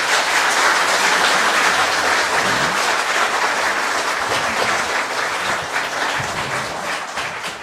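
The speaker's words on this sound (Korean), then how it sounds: "박수로 환영해 주시기 바랍니다." Sustained, fairly loud applause from an audience at a public housing policy forum welcoming a party leader, an even roar of many clapping hands that continues throughout and fades slightly toward the end.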